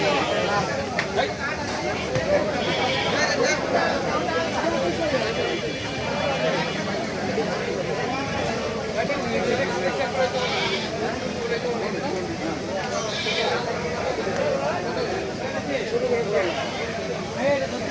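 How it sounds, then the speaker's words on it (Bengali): Goats bleating amid a busy livestock market at Dolaikhal, with crowd chatter and bleats recurring throughout under a constant hubbub. "দেখেন কত ছাগল।"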